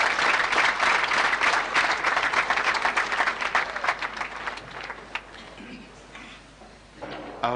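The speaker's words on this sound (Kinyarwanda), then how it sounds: "nimubanze mu mpera amashyi abantu bamaze kuvuga" Audience applause for a speech by the Pallottine leader, a dense steady clapping from a large crowd that stays loud and close before thinning out toward the end.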